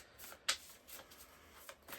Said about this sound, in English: These cards, like, shuffle so nicely, too.